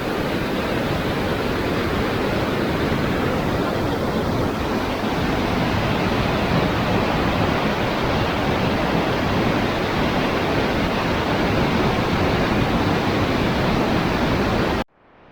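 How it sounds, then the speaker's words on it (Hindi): A rushing Himalayan mountain river on the road toward Ghanghri tumbles past close by, a dense, steady roar of churning water filling the whole stretch with no breaks, loud and continuous until it cuts off abruptly at the end. "तो कलकल करती हुई नदी"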